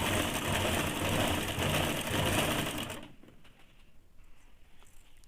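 A sewing machine runs a fast, steady stitch along piping cord on a blouse for about three seconds, then stops, leaving a quiet room with faint handling clicks.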